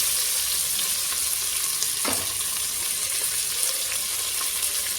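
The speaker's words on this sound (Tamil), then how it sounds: "பெரிய வெங்காயம் பொடிசாக வெட்டி வச்சதை போட்டு நல்லா வதக்கிடுங்க." Finely chopped big onions sauté in hot oil with salt for a Tamil biriyani, a steady loud sizzle throughout with a brief stirring scrape near the middle and no talking.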